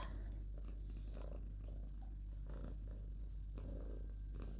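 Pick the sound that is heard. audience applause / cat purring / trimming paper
cat purring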